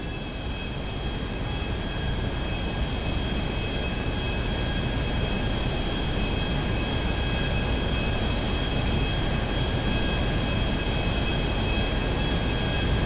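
Helicopters in GTA 5 produce a steady, dense engine and rotor roar with a constant whine above it, unchanging and continuous for the whole stretch, with no talk.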